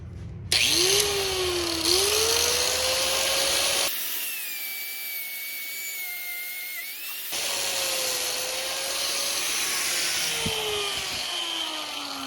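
Power tool cutting through an oil cooler hose on an S54-engined E36 BMW, a loud whining grind with changing pitch in several close bursts and a brief quieter gap between them.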